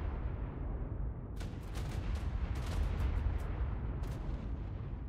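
In modded ARK: Primal Fear, an explosion levels a base of thatch buildings with a continuous low rumble and a cluster of crackling blasts and debris bursts through the middle, loud and sustained, with no speech.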